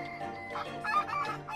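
A crater rooster from Hainan's surrounding villages clucks and calls in short, close bursts over a steady low hum.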